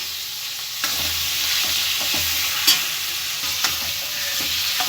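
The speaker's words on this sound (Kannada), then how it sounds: "ಮಿಕ್ಸ್ ಮಾಡ್ಕೊಂಡು ಒಂದು ಸ್ವಲ್ಪ ಬೇಯಿಸ್ಕೊಳ್ಳೋಣ." Chicken stir-frying with tomato masala in a pan for a village-style palya, a steady close sizzle broken by a few spoon scrapes and stirring clinks, with no talking.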